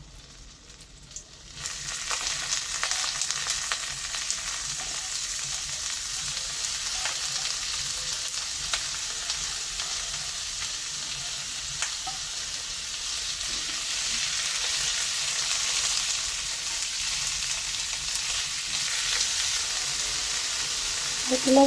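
Mixed vegetables hit a hot pan with onion already browned, setting off a loud, steady sizzle and crackle that holds dense and even, with occasional stirring scrapes underneath and no talking.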